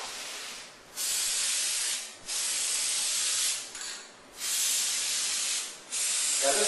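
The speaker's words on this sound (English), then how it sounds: "take the spray and spray a good solid spray right through the mesh fabric to the pipe behind it" Lubricant spray hisses through mesh fabric onto PVC furniture pipe in four firm, steady bursts, each lasting about a second or more, with short pauses between them and no talking.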